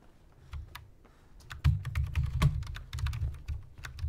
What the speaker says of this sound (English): I hit E on the keyboard.